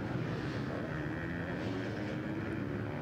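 A 450cc motocross dirt bike engine held at full throttle on a racing track, a loud steady broadband roar that fills the whole stretch without letting up, with no talking.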